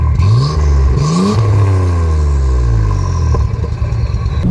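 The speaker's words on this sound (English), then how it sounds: "These sounds that this car is making" A 1987 Nissan 300 ZX Turbo driving on a bumpy road, the engine revving up through rising gear pulls with whining tones, loud and close from inside the cabin, with rattles and clunks as it rolls over rough pavement.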